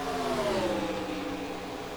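Race car engines whine and drone steadily in a stock car sim race at Dover, a continuous mid-pitched roar with a falling tone as a car passes, no talk.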